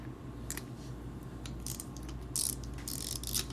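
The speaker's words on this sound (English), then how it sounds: "Again, the same ratchet." Ratchet on an oil filter remover tool during an oil change on a 2014 Jeep Patriot, clicking in quick bursts of ratcheting, close and fairly quiet over a low steady hum, with no talking.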